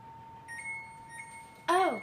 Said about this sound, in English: Shut the timer off.